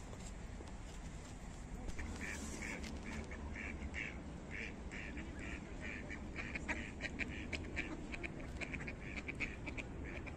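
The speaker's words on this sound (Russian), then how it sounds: "Вон плавают утки" Ducks quack repeatedly on a park river in Belgorod, with a steady background rumble and faint murmurs of voices.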